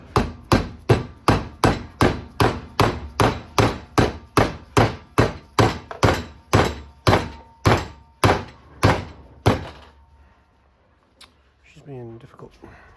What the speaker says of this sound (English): take a softer hammer than we did before, and we're just going to give her a few whacks